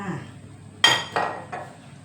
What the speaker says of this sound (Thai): ตักใส่จานพร้อมเสิร์ฟ